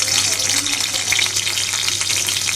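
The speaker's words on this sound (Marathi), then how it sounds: "मिरची चांगली तडतडली बघा." Green chillies splutter and crackle in hot oil in a kadhai, a dense, steady sizzle close up and loud throughout, with a faint low hum underneath.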